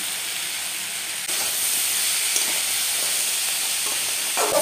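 Steady frying hiss of chili powder and spices being stirred in a pan while making ghugni, a continuous close sizzle with faint scraping, no voices.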